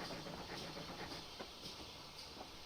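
A train rolls along the Falmouth Branch line on a dawn run, heard from inside the cab: a steady rumble and hiss with regular clickety-clack beats of wheels over rail joints, bouncy and continuous, with no talk.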